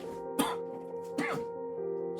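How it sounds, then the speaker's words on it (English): Two separate close coughs with throat clearing, about a second apart, over a steady background hum. "Still coughing."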